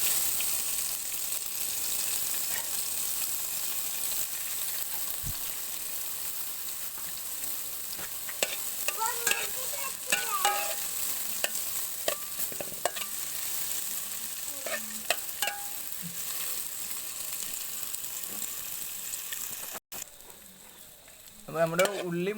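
Shallots and crushed red chilli stir-frying in a pan for drumstick flower thoran, a close, steady sizzle with spatula scrapes and clinks, no voices.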